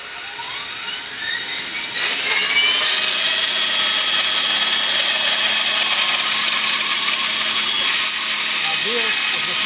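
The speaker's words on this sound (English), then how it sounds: "Now this is what you call a freaking bandsaw" A bandsaw running in a workshop while a table of wood and metal is built, giving a steady high whine with broadband cutting noise that holds loud throughout, with some speech.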